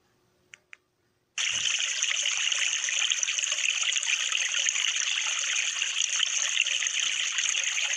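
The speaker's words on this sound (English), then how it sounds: "That was one of the sounds that came with it, flowing water." A digital voice recorder's small speaker plays a built-in recording of flowing water: after two quick clicks and a short silence, a steady bright trickling gush starts abruptly and continues evenly.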